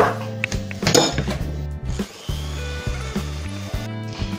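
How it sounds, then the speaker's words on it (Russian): Egg yolks whisked with melted butter in a bowl, giving a steady run of rhythmic clinks and scrapes close up, loud and continuous, with no voices. "хорошо взбиваем."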